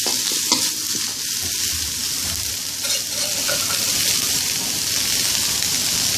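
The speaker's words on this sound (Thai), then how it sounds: "หอมแดงซอยจ้า คั่วให้มันได้ที" Sliced shallots stir-frying in a pan for a grilled chicken curry, a loud continuous hiss of frying close up with a few soft spatula strokes and no pauses.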